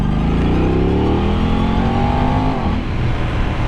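A 2023 Aprilia RS660 motorcycle engine roars loud and close, its pitch sweeping down through quick auto-blipped downshifts with sharp throttle blips between gears.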